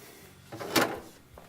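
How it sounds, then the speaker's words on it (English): Drip tray of a Gaggia Velasca Prestige espresso machine sliding into place, a short scraping clatter with one brief sharp knock in the middle and a faint tap after, close and fairly quiet. "I'm just going to slide my drip tray in first, then our water reservoir, and our milk carafe"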